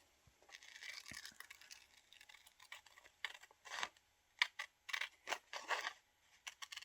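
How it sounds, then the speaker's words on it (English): Scissors snip through vintage magazine paper in a quiet indoor setting, with a string of short, crisp cuts and rustles that grow more distinct and clustered toward the end. "I'm going to cut this bottle out."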